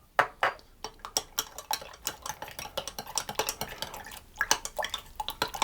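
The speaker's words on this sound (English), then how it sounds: "I'm going to put that into my milk. I'm going to give it a stir around." A spoon stirs milk in a bowl while making sub roll dough, producing a run of quick, close clinks and scrapes against the bowl in an uneven rhythm, with a short pause near the end.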